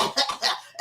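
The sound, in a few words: person imitating someone coughing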